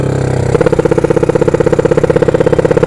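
A drag motorcycle with a newly built engine runs during tuning: a loud, close idle that steps up half a second in, then settles into a fast, even, throbbing exhaust pulse.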